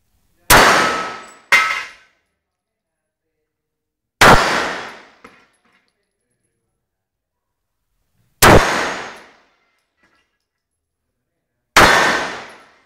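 Five sharp 9mm Luger pistol shots ring out at an outdoor shooting range in Thailand, each crack followed by a metallic clang from a steel target, irregularly spaced with quiet between them.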